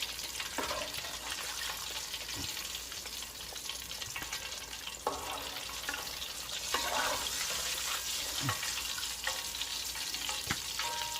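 Fish frying in hot oil for a fish fry, a steady broadband sizzle throughout with occasional clicks and clinks of the pieces being moved or lifted out, close and continuous.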